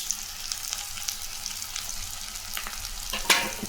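Drumstick leaves and coriander sautéing in a pan for a paniyaram filling give a soft, steady sizzle with occasional scraping stirs and a brief louder clatter near the end.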